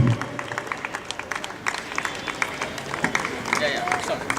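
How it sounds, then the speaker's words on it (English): Teams applauding sponsors at a sports award ceremony, a crowd clapping near and loud in fairly steady rhythm throughout, with murmured voices and amplified sound mixed underneath. "we have all the teams clapping for the sponsors"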